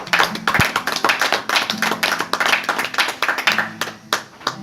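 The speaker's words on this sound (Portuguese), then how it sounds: "Você pode aplaudir ao Senhor nessa manhã" Rhythmic congregational clapping in a church service during a morning gathering, close and lively with sharp repeated hand claps and a low hum of music or voices underneath.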